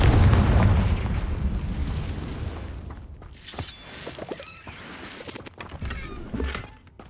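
Confringo explosive spell in Hogwarts Legacy, a loud boom fading into a rumble followed by several sharp bursts and pops at varying loudness.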